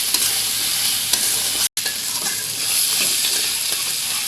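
Crabs that were fried earlier are stir-fried with spices, a loud, close, steady sizzle with stirring scrapes and a sudden brief cut to silence midway before the frying hiss resumes.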